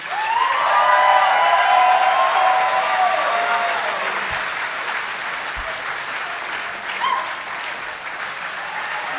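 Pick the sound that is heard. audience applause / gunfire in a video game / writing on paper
audience applause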